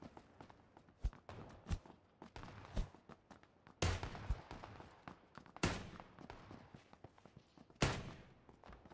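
Gunfire in PlayerUnknown's Battlegrounds comes as sharp, loud shots spaced a second or two apart, with several bigger, closer blasts among quieter reports and shuffling footsteps beneath; no talking.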